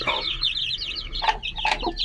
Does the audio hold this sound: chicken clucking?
yes